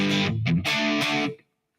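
Electric guitar played through a NUX MG-400 multi-effects unit with heavy reverb, a short distorted phrase of loud sustained chords that break off briefly mid-phrase and then decay into silence, with no talking.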